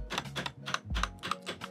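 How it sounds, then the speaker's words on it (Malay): Keys on a Leaven K780 RGB mechanical keyboard are pressed in a quick run of about seven distinct clacks, close up and fairly faint, with short gaps between presses and no talking. "bunyi keyboard ni bila kita hentak-hentak dia punya button kan"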